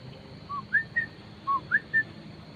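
A person whistles at an abandoned entertainment venue: six short, clear rising and level whistled notes in a loose sequence, moderately close, over quiet background hiss with no talking.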